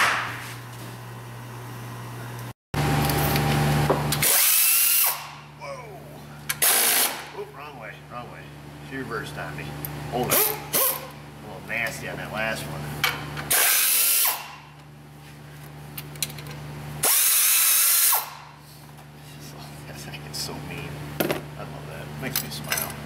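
Power tool whirs in several loud bursts while an AC bypass kit is removed from a Dodge truck, with metallic clinks and rattles between runs and people talking nearby.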